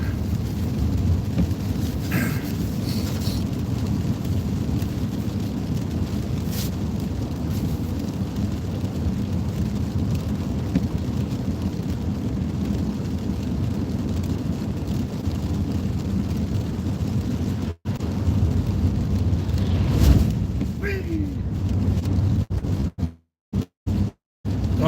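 Steady, heavy rain with low rumbling thunder roars through a livestream, loud and continuous, broken near the end by brief dropouts and cuts in the signal.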